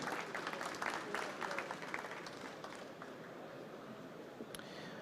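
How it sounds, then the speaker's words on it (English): Applause from the audience at an investor summit award ceremony in Odense, a steady, fairly distant wash of clapping that fades slightly toward the end. "please give a big applause for Fynbo Technology and Matthias Fynbo."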